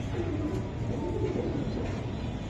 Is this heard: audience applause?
no